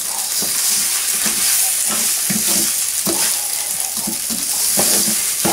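Rice stir-fried in a pan with blackened garlic and peas for special fried rice, a loud steady sizzle with repeated scraping stirs of the utensil against the pan.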